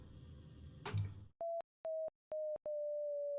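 Beeping tone from a laser jetpack while gliding in a modded Minecraft pack, a steady electronic pitch sounding in short repeated pulses, then holding as one continuous tone, loud and alone after a brief rustle.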